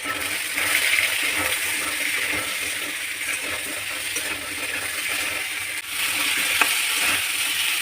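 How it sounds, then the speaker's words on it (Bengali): Taro roots fry in a pan with salt and turmeric, giving a steady close sizzle with occasional scraping and stirring clinks, and no talking. "সেটা ভালো করে ভাজা ভাজা হয়ে গেছে"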